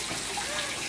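Water runs steadily from a tap during washing, a continuous close splashing hiss with no pauses and no talking.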